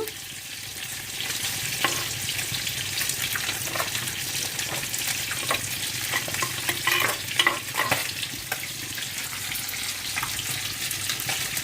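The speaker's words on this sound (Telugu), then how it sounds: "పులుసు మరుగుతుంది కదండి ఇప్పుడు ఈ బెండకాయలు వేసేద్దాము" Fish curry broth simmers in a pan as okra is added, giving a steady bubbling sizzle with soft scattered clinks and stirring sounds, close and continuous without speech.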